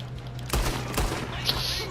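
Gunfire in the video game Red Dead Redemption 2, set during a train robbery: two sharp, loud shots about half a second apart, followed by a lighter crack, over a low steady hum.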